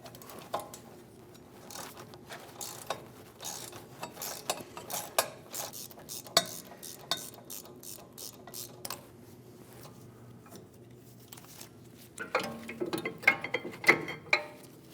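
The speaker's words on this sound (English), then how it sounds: "Using a 7mm Allen, we're going to remove the 2 caliper bolts." A 7mm Allen wrench loosens the rear brake caliper bolts on a 2010-2015 BMW X1 xDrive, giving quiet, close metallic clicks and ratcheting taps in irregular bursts, with a busier cluster near the end.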